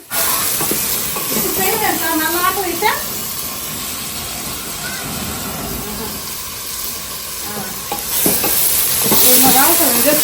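Chopped brinjal and tomatoes fry in a pan for a Muslim-style mutton biryani and dalcha meal, a continuous sizzle running throughout while someone talks over it at the start and again near the end.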